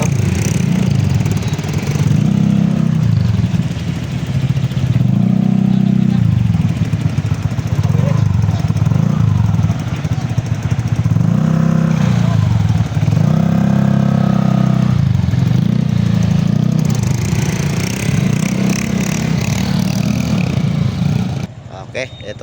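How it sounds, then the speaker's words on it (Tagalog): Motorcycles belonging to a group of riders revving and idling while being loaded onto a ship, engines rising and falling in repeated surges, close and loud, with people talking in the background. "yung mga motor nila isasakay na sa barko"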